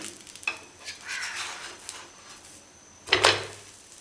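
A homemade appam-style snack in a pan with coconut oil sprinkled over it: soft sizzling and light stirring noises, then a sharper burst of sizzle near the end, all quiet and close.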